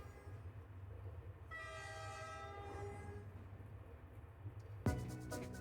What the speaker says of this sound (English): Let's get on the train. This will take us to the Orange Oasis